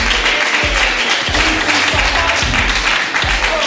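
A crowd claps steadily and loudly, dense applause filling the whole moment with no break.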